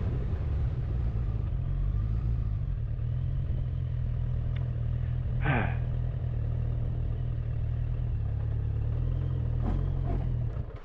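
Car engine droning steadily as the vehicle moves along a dirt road, with a brief scraping slide of the tires near the middle and light clatter from the rough surface, no talk.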